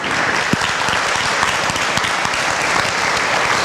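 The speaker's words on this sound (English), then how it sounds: "Let's give them a round of applause." An audience claps for a group at a community event, a full, steady round of applause with a few sharper individual claps standing out near the start, continuous and fairly loud throughout.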